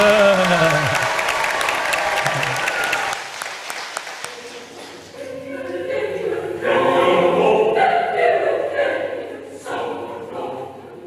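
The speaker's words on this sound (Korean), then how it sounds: "이때 우리도 박수 쳐야 되는 거 아니에요?" A church congregation claps at a Sunday service, a dense wash of applause that fades, then a choir's voices rise in over the tail end with lighter clapping mixed in.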